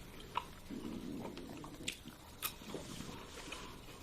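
Quiet, close chewing of well-done steak, soft wet bites and mashing with a few sharper clicks, no talking.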